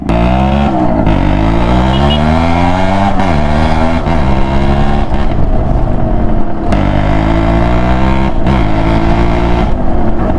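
Loud two-stroke engine of a 1998 Suzuki X4 125 motorcycle revving repeatedly, pitch rising and falling in quick bursts, close up and continuous with no talking.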